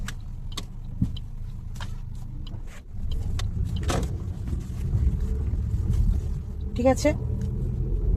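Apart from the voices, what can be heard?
car engine driving in first gear down a narrow lane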